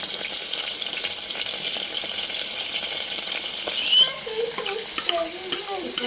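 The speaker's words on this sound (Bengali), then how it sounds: "তেলটা গরম হয়ে গেলে খানিকটা কালো জিরে দিয়ে গরম করে নিতে হবে তার মধ্যে আগে কেটে রাখা ইলিশ মাছগুলোকে একটা একটা পরপর সাজিয়ে নিতে হবে" Hilsa fish pieces frying in hot oil with nigella seeds give a steady, close, loud sizzle, with a few brief clinks and scrapes toward the end.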